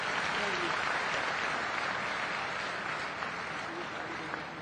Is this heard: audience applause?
yes